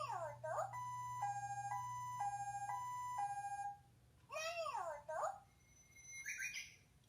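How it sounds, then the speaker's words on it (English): A Sanrio Jewelpet toy phone plays a tinny two-tone ambulance siren for a few seconds, followed by a voice, then a short chirpy electronic bird tweet near the end. "So those are definitely an ambulance and a bird."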